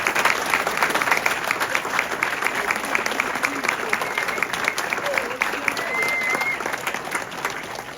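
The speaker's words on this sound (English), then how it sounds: "Let's give them a round of applause." Round of applause at a cross-country senior night banquet: a dense, steady crowd clapping for several seconds, close and even, fading slightly at the end.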